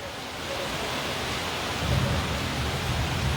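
A heavy downpour outside keeps up a steady, close roar of rain, joined partway through by a deep low rumble like distant thunder, with no one speaking.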